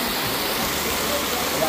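Heavy rain pours down during a storm, a dense, steady hiss of falling water heard close and unbroken for the whole short stretch.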